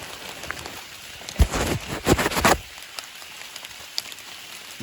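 Rain falling on a campsite, a steady soft patter with a few louder bursts of drops or gusts near the middle, then settling back to a quiet drizzle.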